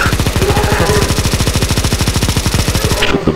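Sustained rapid automatic gunfire in the Counter-Strike: Global Offensive Zombie Escape mod, a loud, dense machine-gun stream aimed at a boss that runs almost without pause before cutting off at the end.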